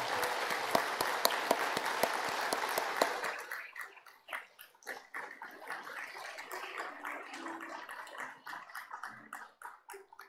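Congregation applauding in a church service, dense steady clapping for about three seconds, then thinning to scattered claps and quieter rustling room noise.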